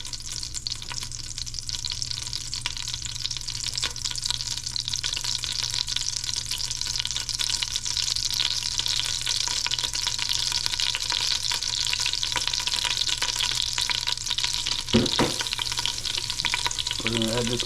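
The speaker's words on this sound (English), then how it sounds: "And let that garlic sort of saute." Garlic and baby spinach sauté in a pan for Tuscan chicken pasta, giving a steady, close sizzle with faint stirring scrapes and one louder knock near the end, with no talking.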